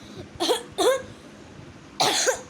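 Three sharp coughs close by: two quick ones in succession, a pause, then a third, slightly longer cough.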